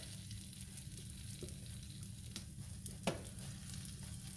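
An omelet frying in a very hot pan gives a steady close sizzle, with a light scrape or tap near the end and no talking.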